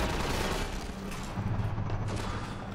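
Rapid pulse rifle fire in the video game Half-Life 2: a loud, continuous burst of automatic shots packed with booming game effects, with no talking over it.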